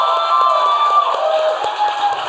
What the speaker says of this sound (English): So one more applause for Trish